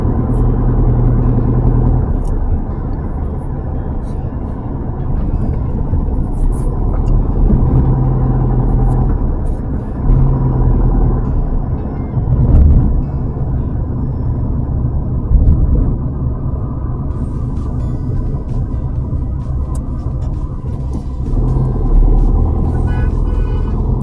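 A car driving on a ring road, a loud continuous engine and road rumble that holds steady throughout with slight swells, heard from inside the vehicle with no talking.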